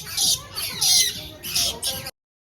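Harsh, loud squawks from birds close by at a bird park, several raucous calls in quick succession over about two seconds before the sound cuts off.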